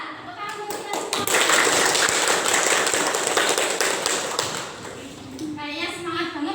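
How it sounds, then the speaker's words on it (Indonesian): A primary school class of children clapping their hands together in a classroom, a rapid flurry of many sharp claps building to a loud sustained burst, with a voice speaking before and after it. "Tepuk tangan kita semua."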